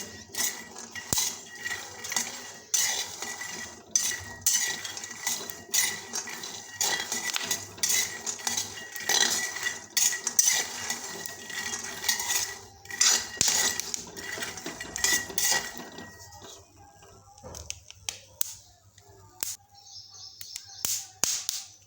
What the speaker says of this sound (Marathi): हे शेंगदाणे भाजून घ्यायचे आहेत खरपूस असे पा आवाज कसा शेंगदाण्याचा येत आहे